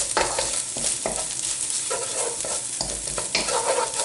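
Garlic and ginger fry in a pan for chicken tikka masala, a steady close sizzle with periodic stirring scrapes and no voices.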